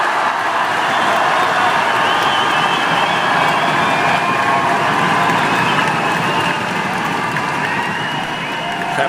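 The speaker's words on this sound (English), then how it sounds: "as you can hear, a crowd can go very wild down under" Tennis crowd at the Australian Open applauding and cheering, a dense, sustained roar of clapping and voices, loud and continuous throughout.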